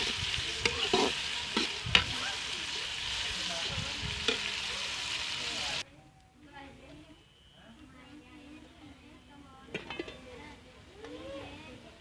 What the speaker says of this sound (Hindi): घी हमारा गर्म हो गया, इसमें हम डाल देंगे प्याज।